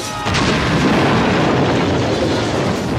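Explosion from the action film Expect No Mercy, a sudden loud boom erupting into a sustained, roaring blast of debris and fire that fills the whole span without letup.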